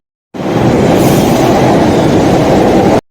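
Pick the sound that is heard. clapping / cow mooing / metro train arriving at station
metro train arriving at station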